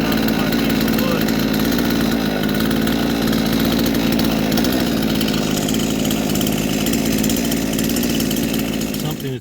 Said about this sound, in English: You point the tip of the chainsaw and pull the trigger